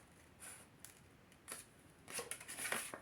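Scissors snip through paper at an angle while shaping a paper tea cup, a few soft, quiet cuts that grow denser and slightly louder toward the end, with no talking.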